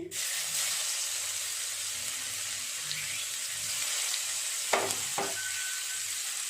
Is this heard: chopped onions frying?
yes